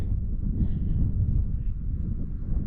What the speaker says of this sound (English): given the weather, which isn't bad, it's just windy